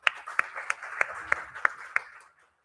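A few sharp, evenly spaced claps from an audience at a smart manufacturing summit. They sound thin and sparse, about seven distinct hits, and quickly fade to near silence.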